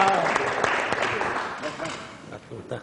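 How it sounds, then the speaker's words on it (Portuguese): An audience at a talk applauds, a burst of clapping that fades over a few seconds while voices carry on underneath. "Vamos aplaudir, Carlos Correia!"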